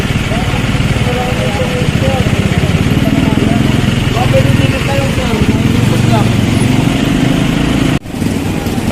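A motorcycle engine idles nearby at a roadside clearing operation, a steady loud chugging that cuts off abruptly near the end. People talk over the engine throughout.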